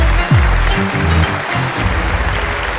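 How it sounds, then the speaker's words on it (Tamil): Broad wash of clapping from a crowd, steady and loud throughout, with some low murmuring underneath. "நல்ல ஒரு பலத்த கைத்தட்டல் கொடுக்கலாமா?"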